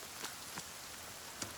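Rain falls in the survival video game The Forest, a faint steady hiss of rainfall with a few soft droplet taps standing out.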